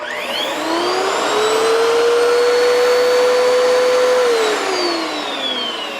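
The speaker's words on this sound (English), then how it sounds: "Will it run a Dyson vacuum cleaner?" Dyson vacuum cleaner powered from a portable power station, its motor whining up to a high steady pitch, holding loud and close, then winding down near the end.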